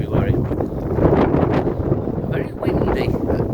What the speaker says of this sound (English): Very windy at times, 22nd of February.